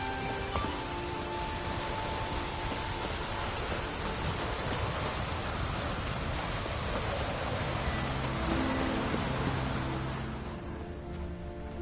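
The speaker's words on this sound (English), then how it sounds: "Looks like rain." Steady rain falls in The Witcher, a dense, even hiss of drops on surfaces that holds constant and softens slightly near the end, with no voices.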